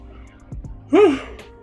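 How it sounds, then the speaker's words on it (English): A single drawn-out yawn from a man, a breathy rising and falling vocal sound, close and fairly loud, preceded by a couple of soft breaths. "I can't stop yawning"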